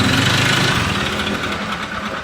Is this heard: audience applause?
no